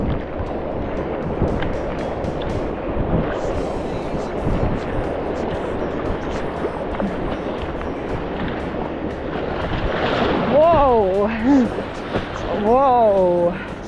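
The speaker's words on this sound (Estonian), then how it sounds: "Siin saab ka merelaineid." Waves slap against a racing kayak on the Yukon River, with choppy water and wind buffeting the microphone throughout, while voices talk and exclaim over the splashing.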